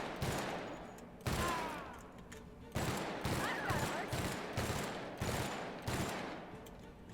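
Rapid gunfire bursts from The Outer Worlds, loud repeated volleys of shots roughly every second or so, with brief gaps between bursts and no voices.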